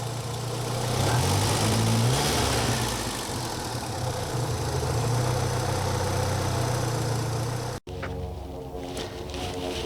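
A 1982 Saab 900's 2-liter 8-valve engine idles steadily with a low, even rumble, close by with the hood open, then briefly cuts out and resumes in the final seconds.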